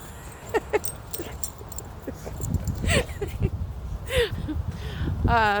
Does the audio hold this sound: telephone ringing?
no